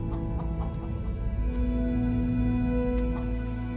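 Domestic chickens cluck continuously in a dense flock, a steady overlapping chorus of hens close by with no talking.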